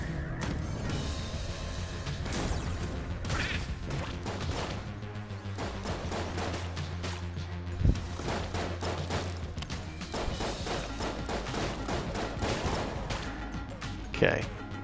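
Big shooty gun firing in the Enter the Gungeon video game, dense rapid bursts of gunfire layered over game music, with sharper loud blasts near the middle and end.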